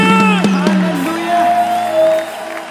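A church congregation erupts in cheering, shouted ululation and clapping, loud and close at first, then fading to a sustained high vocal trill and a lower held tone while voices carry on.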